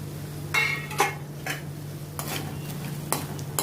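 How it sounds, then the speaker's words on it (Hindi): Chana dal roasting in a pan with poha for chivda, giving scattered stirring scrapes and light sizzling crackle in short bursts over a steady low hum, with no talking. "इसको भी अभी अच्छी तरह से रोस्ट करती हूँ इनके साथ।"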